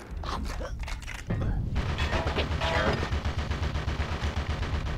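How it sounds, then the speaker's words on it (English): Rapid gunfire in the cartoon shooter Conker's Bad Fur Day: a few scattered shots, then a dense, pounding stream of repeated blasts that holds steady at close range, with a voice briefly heard among it. "Shooting each other pointlessly, that's what we're gonna do."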